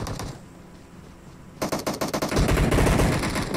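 Gunfire in a battle royale video game, a quick rattle of automatic bursts that swells into loud, dense sustained firing close up in the final seconds, with no talking.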